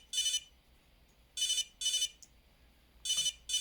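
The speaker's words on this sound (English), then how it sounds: "Better answer that phone. And it's still ringing." A telephone ring sound generated by Forth code on a Raspberry Pi Pico, a bright electronic trill in short repeated bursts, two pairs spaced apart after a single opening burst, loud and clean with no talking.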